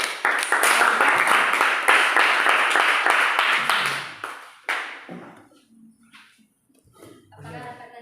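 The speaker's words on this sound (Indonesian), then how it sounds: "Mari kita berikan aplaus dulu." An audience at a university teacher-training performance exam claps in a dense burst of applause that fades after a few seconds, followed by a few scattered taps and brief faint speech.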